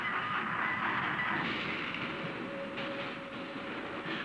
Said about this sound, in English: Now here we see 2 Southern Pacific commute trains passing.